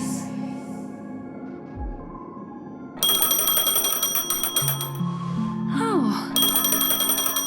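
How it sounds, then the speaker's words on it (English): Electronic phone ringtone in Honkai: Star Rail, a bright repeating trill that cuts in partway through over game music, with a rising chime sequence, fairly loud and steady. "A phone. Wanna listen in?"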